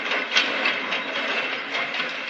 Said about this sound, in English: That is the sound of the presses rolling out the next edition of the British Gazette.